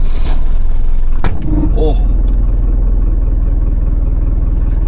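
A 1979 Mercedes W123 turned over and fired with the blower running, giving a brief loud catch followed by a steady, close, low idle rumble, with a short spoken exclamation near the start.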